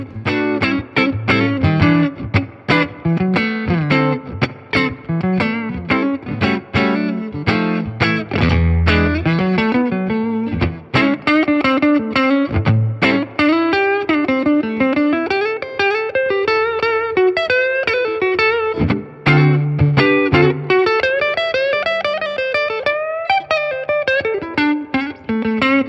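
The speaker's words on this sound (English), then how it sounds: "we're checking out the Fender Tone Master Deluxe Reverb" Electric guitar played through a Fender Tone Master Deluxe Reverb amp, continuous melodic lines and chords with overdriven, effects-laden tone and some reverb, loud and close, with no talking.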